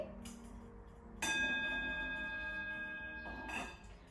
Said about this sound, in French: Je vous propose une petite entrée zen avec un gong.